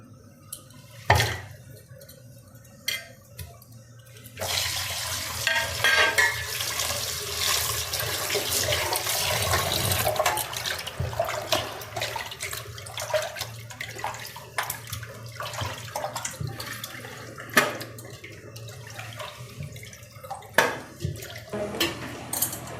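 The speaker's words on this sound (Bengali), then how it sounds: "তার জন্য আমি মাংসটা ধুয়ে নিচ্ছি" Goat meat being washed in water in a home kitchen: a few sharp knocks, then running and splashing water swells for several seconds, followed by sloshing, dripping and clinking of the meat in a bowl.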